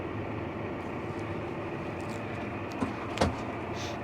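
A tractor works its way around the edges of a field being prepared for carrots, giving a steady, unbroken engine drone with a couple of faint clunks near the end.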